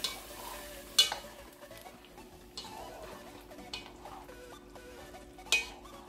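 A utensil stirs mustard chicken sauce with onions in a pan over a faint simmer, giving a few sharp scrapes and clinks spread across a quiet background.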